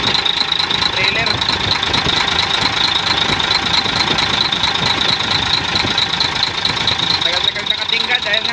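A Weichai diesel engine on an Oceanic trailer container idles with a knocking fault, a steady loud mechanical clatter and hum close by, while people talk over it.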